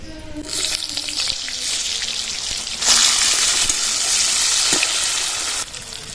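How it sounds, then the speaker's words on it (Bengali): Pieces of pointed gourd (potol) frying in hot oil, a loud bubbling sizzle that swells midway, with occasional clinks from a stirring utensil and no talk. "এবার পটলগুলো ভেজে নেবো"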